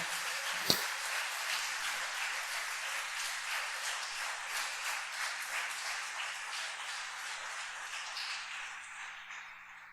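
A church congregation applauding, a dense, steady wash of many hands clapping at once that fills the room, holding evenly for several seconds before slowly tapering off.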